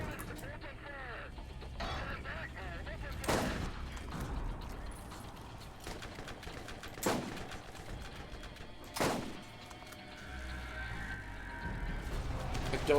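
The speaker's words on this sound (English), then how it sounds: "How are you able to snipe me with a fucking machine gun?" Machine gun fire in the shooter Borderlands, heard as three sharp, separate loud reports spaced a few seconds apart over a busy bed of mechanical game noise and low voices.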